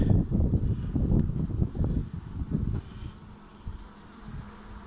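A dense swarm of honeybees buzzes loudly up close at a hive, the drone thick for a few seconds before thinning to a softer, scattered hum.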